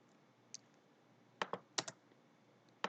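A few quick keystrokes on a computer keyboard while writing C# code: a lone tap, then two short clustered bursts of clicks and a final tap, fairly close and crisp over a quiet room.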